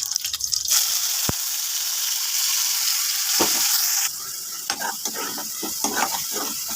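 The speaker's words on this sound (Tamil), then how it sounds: "இப்படி எண்ணெயில் இந்த வெங்காயம் வதங்கட்டும்" Ground onion paste sizzles and crackles steadily in hot oil in a pan, with a few sharp stirring knocks and splutters. A softer bubbling fry continues near and fairly loud throughout.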